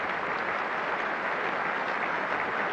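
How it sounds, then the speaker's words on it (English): Steady applause from the crowd at an England vs India cricket test match in 1990, dense and even clapping throughout, slightly distant with no talk over it. "Muted applause, I suspect, from the bowler."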